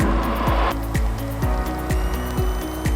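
A small airplane's engine drones loud and close as the throttle is pulled back for landing in Vermont, a steady low roar with an even, rhythmic pulsing throughout.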